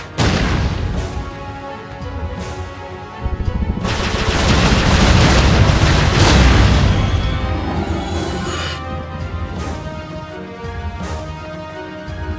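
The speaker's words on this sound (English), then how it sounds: "Our flight was great fun. Lots of explosions." Explosions rumble and crack during a flight sequence in the video game Jade Empire. Loud, dense blasts and gunfire-like bursts repeat throughout, swelling to a heavy roar in the middle before easing into sharper intermittent hits.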